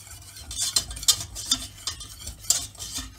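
A utensil stirs flour into melted butter in a pan off the heat to make a roux, giving soft scraping strokes with a few sharper clicks against the pan at an uneven pace.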